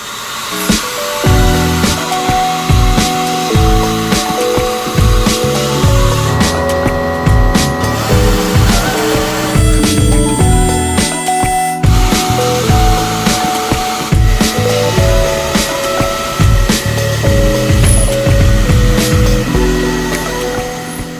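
A machining center cuts a welded steel bearing housing, producing a loud, continuous whirring and grinding drone with shifting tonal hums and brief changes in pitch as the tool works.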